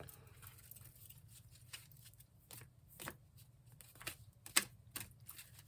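Soft riffling and snapping of cards in quick, uneven bursts, faint and close, with no one speaking.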